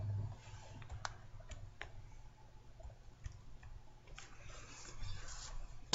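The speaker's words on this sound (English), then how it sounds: "How we do that is by typing F4, function key F4" Sparse clicks and taps of computer keyboard keys, including the F4 function key, a few sharp presses scattered over a quiet background hum, with no talking.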